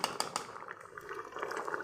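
Chana dal simmers in a pot after a spoonful of ghee goes in, with a steady bubbling and gurgling close by and a couple of faint utensil taps early on. No one talks.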